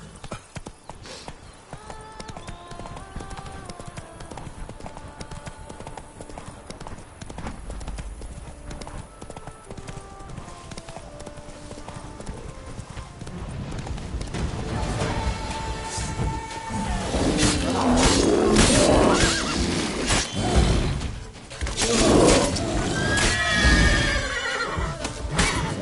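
Roach, a horse in a video game, gallops with steady rhythmic hoofbeats that grow louder and busier, then neighs loudly near the end, close amid game music and ambience.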